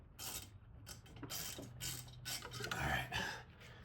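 A hand ratchet clicks in quick bursts while turning a bolt on a VW Golf Mk7 down pipe. The crisp pawl clicks come close and loud in uneven runs with short pauses between strokes.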